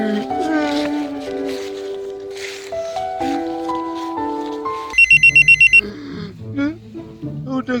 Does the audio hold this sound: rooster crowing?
no